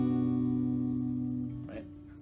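Acoustic guitar rings out a strummed chord shaped like an F but not quite, sustaining and fading for about a second and a half before a soft handling noise, close and moderately quiet with no talk.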